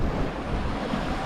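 Gale-force wind roars over a sailing catamaran, a Balance 526, with crashing waves and water rushing, a dense, steady, loud wash of noise close to the microphone with no voices.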